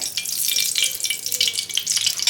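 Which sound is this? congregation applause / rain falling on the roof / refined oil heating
refined oil heating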